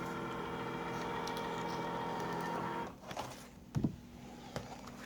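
A vinyl cutting machine runs with a steady motorized hum, then stops; a few soft mechanical clunks and a short whir follow as the cutting mat is ejected, close and fairly quiet.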